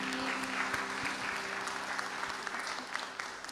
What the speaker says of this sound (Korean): 우리 하늘 함께 하시는 주님께 큰 영광의 박수 드립니다